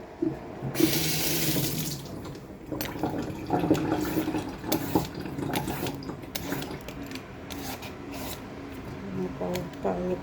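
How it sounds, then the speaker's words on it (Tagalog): Running tap water pours steadily over a peeled papaya being washed at a kitchen sink, a continuous splashing stream with handling clatter throughout. "Pero yung papaya, hugasan natin siya ulit kasi yung katas niya is mapait siya"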